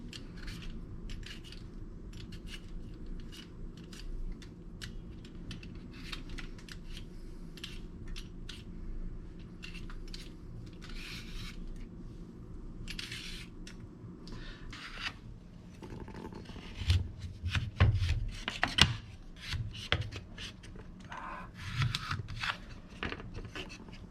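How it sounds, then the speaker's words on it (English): Thin-skinned potatoes being peeled with a hand peeler, rapid dry scraping strokes close by, repeated through the clip with a few louder knocks and rubs near the end. "peeling these potatoes"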